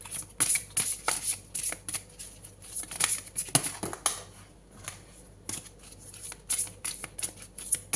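A deck of oracle cards being shuffled by hand up close, with rapid riffling bursts and flicks in an irregular rhythm and short pauses between handfuls.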